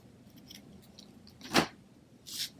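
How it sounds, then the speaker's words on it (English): Scissors snip through a length of scalloped ribbon in a quiet room, giving one sharp, close cut near the middle and a softer second snip at the end, with no talking. "So, let's just cut a piece here."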